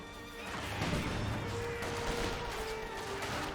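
An infantry firefight in Company of Heroes 2, with Soviet conscripts and guards against Panzer Fusiliers: a constant clatter of gunfire and crashing impacts under a steady battle hum, loud and unbroken throughout.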